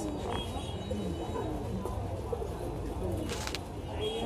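Pigeons coo softly amid the bustle of a pigeon market in Bangladesh, with faint low coos and a few wing flutters under a murmuring background.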